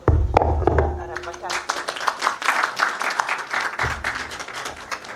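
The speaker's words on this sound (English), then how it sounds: "And please join in my applause." A conference audience claps, starting with a few scattered claps and then filling into broad, moderately loud applause. Some speech mixes in early on.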